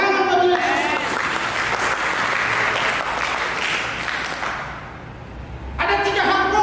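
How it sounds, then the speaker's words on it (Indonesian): Congregation applause at a church service, a dense crowd clapping steadily for several seconds with a preacher's voice heard briefly at the start and end. "Berikan tepuk tangan bagi Yesus."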